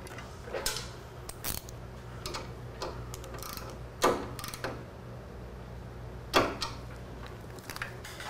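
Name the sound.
tightening a 10 mm bolt on a Harley Davidson frame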